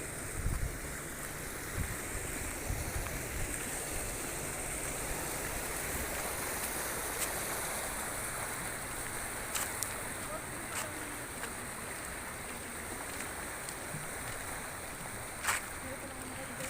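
A wide river in Naguilian, La Union flows steadily in a continuous broadband wash of water noise, with occasional faint clicks and bumps on top.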